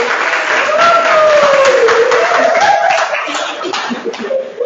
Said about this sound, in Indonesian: kasih tepuk tangan dulu untuk Jati